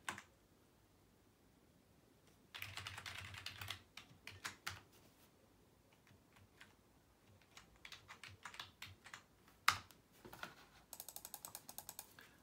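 Typing on a new wireless keyboard, quiet close clicking keystrokes in uneven bursts with pauses, including a fast rattling flurry near the end.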